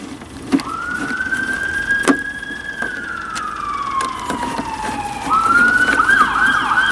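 A passing emergency vehicle's siren sounds loud and clear in a long wail that slowly falls in pitch as it goes by, then switches to a rapid yelping pattern over faint traffic rumble.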